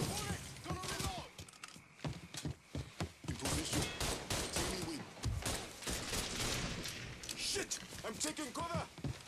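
Gunfire from the crime action game Mafia III, sharp shots and bursts mixed with impacts throughout, under frequent talk from a man playing.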